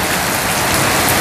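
Steady, heavy rain pours onto a surface close by, a dense, even hiss with no voices over it.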